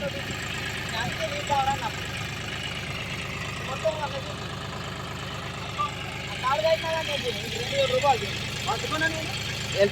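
A four-wheel tractor engine strains while stuck in a field, holding a steady low drone throughout as people talk over it.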